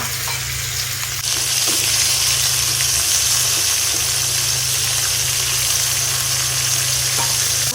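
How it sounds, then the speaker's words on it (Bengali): Fish dropped straight into plenty of hot oil: a moderate background hiss jumps into a loud, dense, continuous sizzle about a second in and stays strong to the end, with faint stirring knocks. "তারপরে এখানে আমি তেলের মধ্যে সরাসরি মাছটা দিয়ে দিব"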